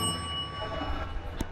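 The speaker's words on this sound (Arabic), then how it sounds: "عايز اجيب لي جرس زي ده عندي في البيت، افضل ازمر عليه كده للقطط." A small bell rung to call cats in a town in Suez, Egypt, giving brief high metallic rings over a busy outdoor background with voices nearby.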